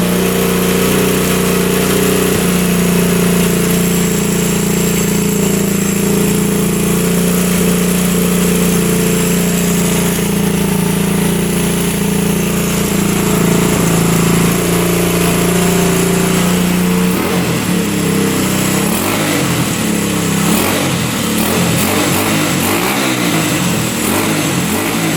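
A 1974 Honda motorcycle engine from a barn find runs loud and steady close by, holding a rough idle before the revs change and turn more uneven toward the end, with no talking.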